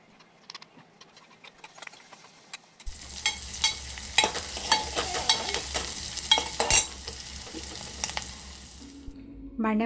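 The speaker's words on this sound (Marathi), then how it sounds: "भांड्यामध्ये सुरुवातीला तेल टाकायचं, त्यानंतर त्यामध्ये लसूण टाकायचा. लसूण टाकल्यानंतर कांदा टाकायचा." Garlic and onion hit hot oil in a pot for tomato soup: after a quiet start, a sudden steady sizzle rises, broken by sharp clinks and scrapes of stirring, close and fairly loud.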